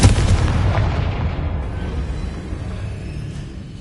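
A Confringo blast spell from Hogwarts Legacy erupts as a single heavy, booming burst that rolls off into a fading rumble over a few seconds.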